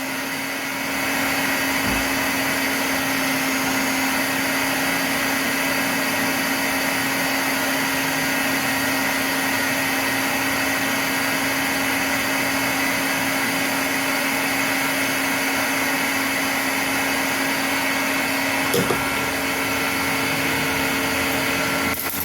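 Hot air blower heating the sides and bottom of an LED on a TV backlight strip during repair, a steady close whooshing roar with a constant hum that runs unbroken throughout, with a brief click near the end.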